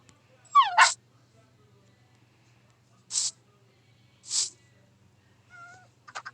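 A dog gives a few short yips and whines spaced across the clip, close and fairly loud, with quiet pauses between them and no talking.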